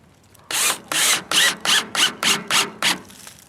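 Power drill driving coarse-thread screws into a mailbox, eight loud close bursts of whirring in quick succession, each lasting a fraction of a second, with brief pauses between and no talk.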